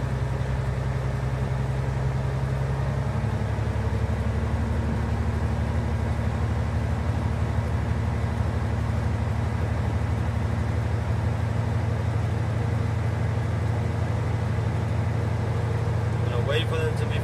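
A truck engine in a pre-trip inspection, throttled up to refill the air brake tanks: a steady, loud low drone that rises in pitch after a few seconds and holds, with faint background noise.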